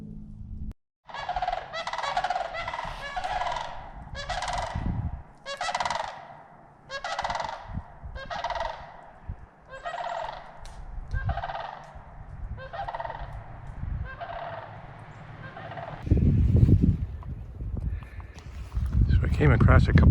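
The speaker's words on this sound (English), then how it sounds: "there's a flock of wild turkeys that just went down that bluff where I've been working" A flock of wild turkeys gobbling near a cold evening camp along a bluff in Michigan's Upper Peninsula, a run of repeated rattling calls close by, then rustling and louder noise toward the end.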